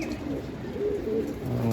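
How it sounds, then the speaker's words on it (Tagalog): Racing pigeons coo softly in a short burst, low throaty murmurs close by against a noisy background of other birds and ambient rustle. "Yan po ang SDR na ibon natin"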